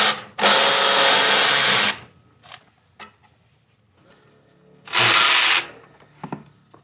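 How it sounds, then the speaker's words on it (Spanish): Power tool removing 12 mm intake bracket bolts on a 2011 Nissan Frontier 4.0, two loud bursts of about one and a half seconds and under a second, with small metallic clicks and handling noises between. "Enseguida vamos a quitar dos tornillos 12 que están agarrando aquí el intake."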